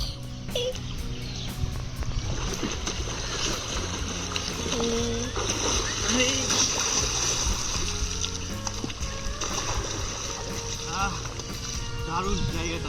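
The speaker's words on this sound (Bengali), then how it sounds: "হয়ে গেল স্নান কমপ্লিট।" A person bathes in river water at a Ganga ghat in Sadullapur, Malda, with irregular splashes and sloshing water close by, while voices talk over it and other background noise continues.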